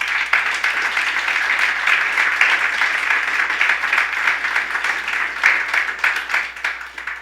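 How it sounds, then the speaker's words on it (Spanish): A church congregation applauds together, with dense, steady clapping that stays loud and even from start to finish. "¿Cómo no darle un aplauso fuerte al Señor?"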